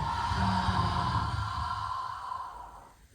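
A long, slow exhale through the mouth during a somatic yoga breathing exercise, a soft close breathy rush that fades out over about three seconds.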